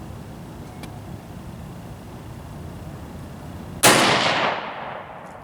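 Single loud rifle shot at an outdoor shooting range, one of an H&R .223 or an M1A, arriving sharply after a quiet stretch and followed by a long fading echo.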